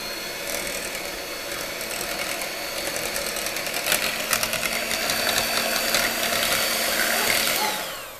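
Electric mixer running steadily on low speed through sweet potato waffle batter, a continuous motor whir with rattling mid-range texture that holds even for about eight seconds before tapering off at the end.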